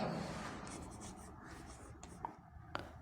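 Pen writing out a Class 9 NCERT math solution, a faint steady scratching with a few brief louder strokes near the end, no talk.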